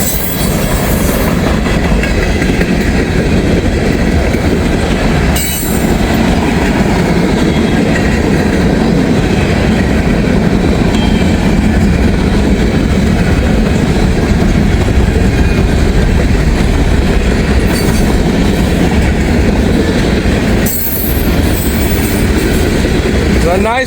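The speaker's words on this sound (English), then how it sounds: "Yeah, this is definitely M511. Winchester Western 2 line." Long freight train M511 on the Winchester Western line, hauling steel coil cars, rumbles past close by, a loud continuous roar of wheels and clattering wagons that holds steady throughout.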